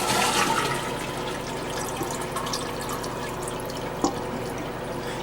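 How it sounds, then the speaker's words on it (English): Toilet tank flushing steadily while the handle is held up to drain it during a fill valve replacement, a continuous rushing wash of water with a small drip or clunk near the end, close and fairly loud. "now the next step we're going to flush the toilet and hold the handle up"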